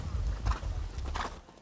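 A ridden horse walks during a riding lesson at an equestrian club, its hooves landing in a few close clip-clop beats with a faint voice in the background.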